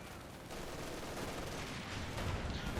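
MG42 machine gun in Company of Heroes 2 battle, a dense continuous rattle of automatic gunfire mixed with distant fusillade and combat noise, steady and loud throughout.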